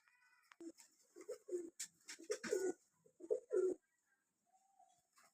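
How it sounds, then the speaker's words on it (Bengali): A group of eight pigeons offered for sale coo close by in a run of soft, low, throaty pulses, with brief quiet gaps and a faint background hiss. "এই 8 পিস পায়রা আছে"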